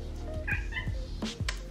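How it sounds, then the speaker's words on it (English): A house cat meows a few short times, close by, over a steady low room hum. "That's my cat."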